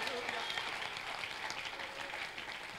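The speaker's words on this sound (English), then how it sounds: "Somebody clap your hands" A church congregation clapping at an ordination service, a continuous, even patter of many hands throughout, blended with crowd noise at a moderate level.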